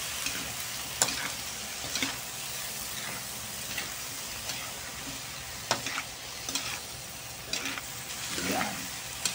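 A utensil stirs pancit bato noodles with vegetables in a hot pan, sizzling steadily with scattered scraping clicks and taps of the spatula against the pan.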